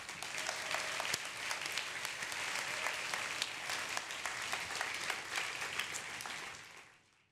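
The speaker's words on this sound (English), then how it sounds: "So let's give them a round of applause." A conference audience gives a sustained round of applause, steady and moderately loud for several seconds, with individual claps audible in the mix before it fades out at the very end.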